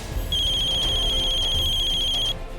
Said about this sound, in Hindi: देखो मेरे आदमियों का फोन आया है